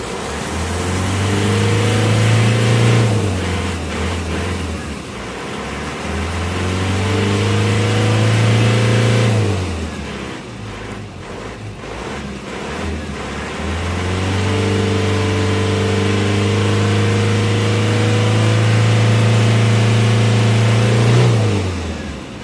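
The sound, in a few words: Isuzu Crosswind engine started and revving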